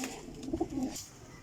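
A golden pigeon gives a soft, low cooing call, close and quiet, with faint background noise.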